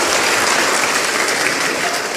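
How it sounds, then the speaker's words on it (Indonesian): A church congregation at an Indonesian Christian sermon breaks into loud, continuous applause, a dense, even clatter of many hands close by with no talking over it. "Tepuk tangan dulu kasih bapak-bapak."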